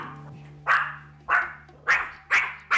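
An anxious dog hiding under a sofa barks in four sharp, evenly spaced woofs, loud and close, with a low steady hum behind them.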